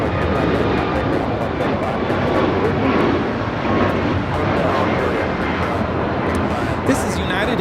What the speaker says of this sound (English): This is United Airlines 2443 taking off to Cleveland, Ohio on the MAX 8.